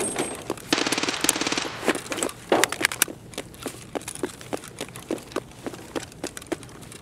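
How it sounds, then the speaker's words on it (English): Rapid MP9 gunfire in a first-person shooter, a burst of dense automatic shots followed by a steady run of sharp, evenly spaced single cracks at moderate distance. "it sound like a MP9 or something."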